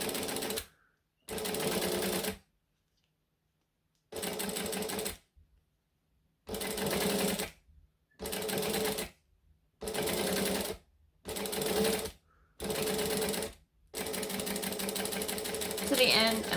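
A sewing machine stitches a fabric bangle dangle in a series of short whirring runs, each a few seconds long and separated by pauses, close and clear with a voice speaking at times.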